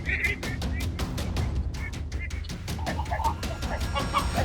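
A farm flock of chickens clucks and squawks continuously, with repeated sharp calls overlapping one another against a busy, close-up barnyard background.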